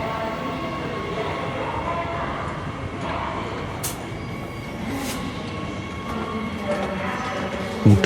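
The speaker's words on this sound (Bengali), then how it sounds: "মেট্রো ঢুকছে চল" A metro train rolls into an underground station with a steady rumble, rhythmic wheel clatter and faint squeals, and a few muffled voices sound behind it.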